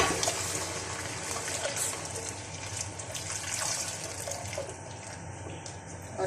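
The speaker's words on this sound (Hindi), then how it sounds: "अब लस्सी ऐड कर देंगे।" Lassi pouring steadily into a karhi pan of fried masala, a continuous close splashing liquid stream with a bright hiss that runs throughout without pause, no voices.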